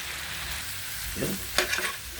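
Sisig with two eggs is stirred in a frying pan, giving a steady close sizzle with a few scraping strokes of the spoon near the end.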